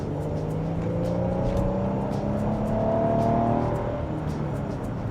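Twin-turbo 3.5-liter V6 in a heavy 2025 Infiniti QX80 Autograph SUV accelerating hard, a steady loud engine drone with rising harmonic tones heard from inside the cabin, continuous and without speech.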